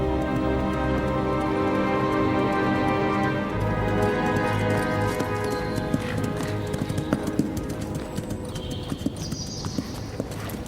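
Horse hooves clip-clop in a steady rhythm, growing sharper and closer toward the end, while a horse neighs partway through over a sustained orchestral music bed.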